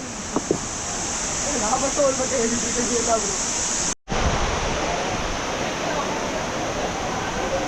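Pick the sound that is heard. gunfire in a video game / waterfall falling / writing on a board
waterfall falling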